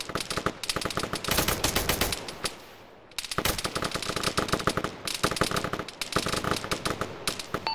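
Automatic gunfire in the ArmA video game, ShackTac play: loud, rapid bursts of shots with one short pause in the middle, then sustained firing again.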